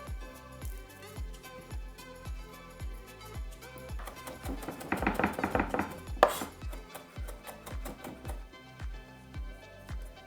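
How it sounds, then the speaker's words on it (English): Fresh garden herbs, leaves stripped from the stems, get a rough chop with a knife on a board: a steady run of close, crisp knife strikes with a brief louder clatter partway through. "we're gonna strip the leaves off the stems and then give them a rough chop"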